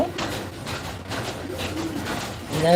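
Pigeons coo in a breeding loft, soft repeated calls rising and falling over a busy low murmur of birds close by, with a brief louder flutter of sound near the end.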